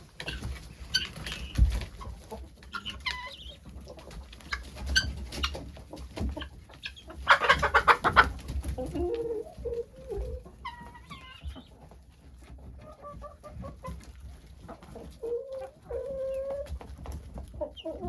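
Farm chickens clucking and squawking on and off in a cold barnyard, fairly close, with a louder flurry of calls midway and low rumbling background noise throughout.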